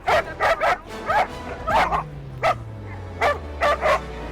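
A reactive dog barks in a quick run of sharp, loud yips and woofs, about a dozen bursts in uneven clusters, with a brief whine partway through and no one speaking.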